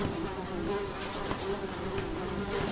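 A housefly buzzes close by in a steady, continuous drone that keeps going for nearly three seconds, with no voices over it.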